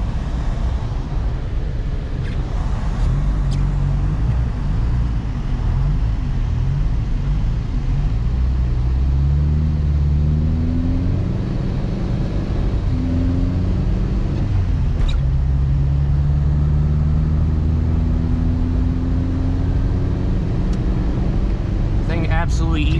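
A 1984 Toyota Tercel 4WD on all-season tires drives through snow, its engine a steady close rumble with rising revs, running continuously beneath someone talking.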